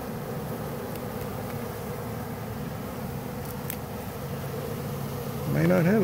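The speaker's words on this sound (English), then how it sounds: "I'm really, really scared of these bees." A swarm of honeybees hums as a dense, steady buzz close by, rising in loudness near the end as a bee passes right next to the listener.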